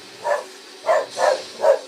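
A dog barks four times in short, fairly close bursts, one single bark followed by a quicker run of three, alone with no talking.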